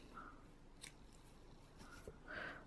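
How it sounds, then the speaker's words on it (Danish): Small scissors snip thread ends on the inside of a sewn fabric piece, a few faint, quiet clips heard close up in a hushed room. "Alle trådenderne her på indersiden, dem klipper vi bare ned."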